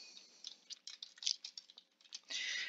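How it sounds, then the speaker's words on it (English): Someone typing a search on a computer keyboard, a quick irregular run of light clicking keystrokes close by, ending in a brief louder rustle. "let's type that in again"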